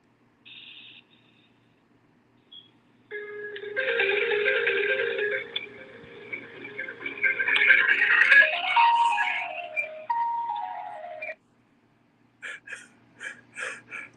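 A phone on speaker dialing a disconnected number plays an electronic tone sequence followed by a long recorded message, with brief beeps and short tone bursts, moderately loud and close, with no live talking over it.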